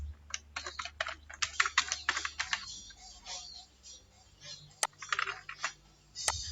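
Someone types on a computer keyboard nearby in quick bursts of light clicking keystrokes with short pauses, followed by a few sharper isolated key taps, with no speech.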